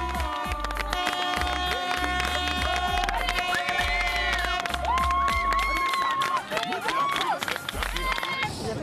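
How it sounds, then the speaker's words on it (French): Spectators cheering and applauding as a competitor crosses the finish line of a paddle race, a mix of shouts, claps and crowd noise with music and a voice over the top throughout. "Tout sourire sous les applaudissements du public."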